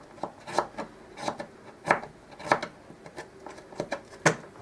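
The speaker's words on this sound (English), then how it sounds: "So I'll just carve a little bit more off." Knife shaving a raw carrot to shape a whistle plug, a close series of about ten crisp scraping cuts at an irregular steady pace, each short and distinct over a quiet background.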